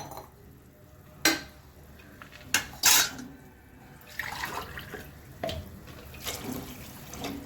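Water is poured into a cooking pot for vegetable biryani rice amid a few sharp metallic clanks of utensils, followed by a softer, uneven splashing wash toward the end.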